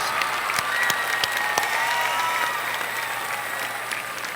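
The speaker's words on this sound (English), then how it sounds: "you have every right to applaud yourselves" Crowd applause filling an arena at an opening ceremony, steady and somewhat distant, with a few sharper individual claps and a gradual slight fade toward the end.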